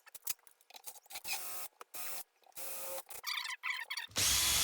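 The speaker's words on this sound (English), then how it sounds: "So I'm going to try to drill it out and try to get it out that way." A power drill bores into a stripped screw on a Kwikset handleset door knob assembly, running in short bursts with pauses and then a harsh continuous grind at the end.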